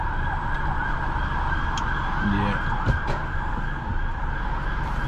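A police car siren wails in central London near Marble Arch, a distant, held tone under the continuous rumble of a vehicle towing a coach, with one brief spoken word.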